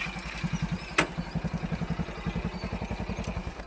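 A motorcycle engine idling with a steady, rapid putter, close and even, with one sharp click partway through.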